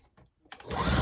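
A sewing machine stitching two-inch jelly roll fabric strips starts up after a near-silent pause, quickly building into a steady, fast, close whirring run.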